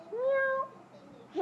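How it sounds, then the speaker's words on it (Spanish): A domestic cat gives one short, clear meow, fairly close, followed by quiet background. "¿Cómo hace el gato? ¿El gato? Miau."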